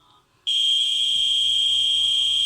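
A piezo buzzer driven at 800 switches on abruptly after a brief quiet moment and holds a loud, steady, piercing high-pitched tone with no talking.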